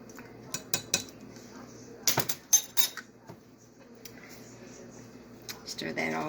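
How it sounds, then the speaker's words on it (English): Spoon scraping and clinking in a bowl while stirring hickory nut pie filling with melted butter and vanilla, irregular taps and scrapes with quiet pauses between, close and fairly soft. "stir that all up real good"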